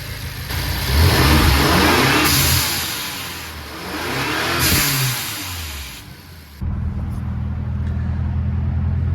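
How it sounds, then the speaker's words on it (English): A BMW X5M engine revs hard several times, rising and falling in loud surges that sit close to the listener, then settles into a steady, throbbing idle toward the end. "Let's give it a few revs"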